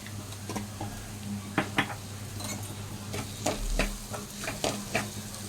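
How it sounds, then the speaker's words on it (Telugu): Ginger garlic paste with turmeric and coriander powder fries in a pan, a soft sizzle under light scraping and stirring clicks from a spoon, with a few sharper taps against the metal. "కొంచెం ఇవి రెండు పచ్చివాసన పోయే వరకు ఫ్రై చేసుకోవాలి"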